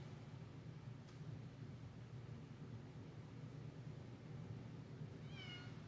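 A pet cat gives a single short, faint meow near the end, after a long stretch of quiet, steady background hiss.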